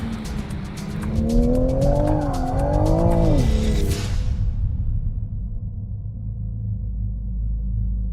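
Rear tires of a 2020 Toyota Supra squeal in a smooth, controlled power slide on a race track, a loud wavering screech riding over engine roar for a few seconds before fading into a steady rumble.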